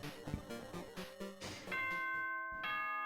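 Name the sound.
doorbell chime in Danganronpa 2 video game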